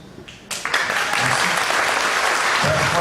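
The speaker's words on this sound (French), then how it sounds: "On peut encore l'applaudir." An audience applauds performers on stage, the clapping surging in after a half-second of quieter murmur and then holding as a dense, steady wave to the end.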